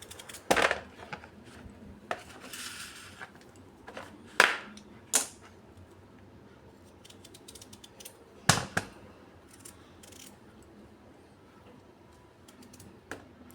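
A knife chops squash on a cutting board in a kitchen, with a few sharp isolated knocks spaced irregularly against a quiet background of faint scraping and small clicks.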